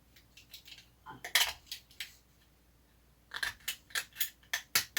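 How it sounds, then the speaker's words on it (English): A blade scrapes and carves a deer antler for a knife handle in short, sharp, repeated strokes. There are two clusters of rasping cuts with a quiet pause between. "So I'm just gonna carve this antler down a little bit."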